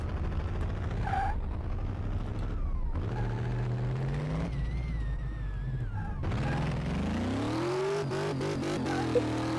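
A powerful car engine revs on a test track in the Car Mechanic Simulator 2018 video game, rising and falling in repeated loud surges with gear changes and a climbing whine near the end.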